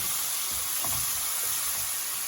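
Mutton curry masala sizzles steadily in a pan over a medium flame while being mixed, a continuous close hiss with faint stirring scrapes underneath.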